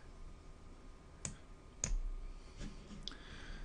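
A few sharp computer mouse clicks, spaced irregularly over a low steady background hum, close and fairly faint, no talking.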